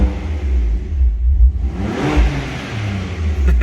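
A BMW M4 with a Milltek aftermarket exhaust idles with a deep rumble, then revs up briefly with a rising growl before settling back to a low idle.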